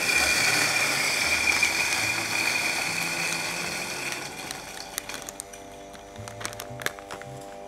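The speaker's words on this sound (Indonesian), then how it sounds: "Baru aku giling buat biji kopi yang mau aku pakai." A coffee grinder set to grind size 3 crunches and whirs loudly through coffee beans for about four seconds, then winds down into scattered clicks and light rattles.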